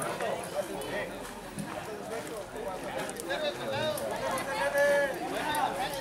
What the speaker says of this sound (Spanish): Ahí tenemos los caballos en la siguiente carrera.